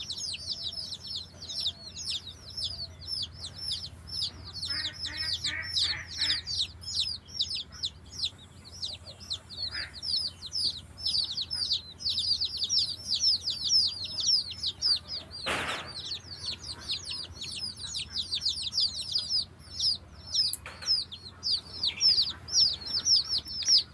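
Dense, continuous peeping of many young chicks during Ranikhet F1 vaccination, with high cheeps overlapping throughout, a few wing flutters and one brief sharp knock near the middle.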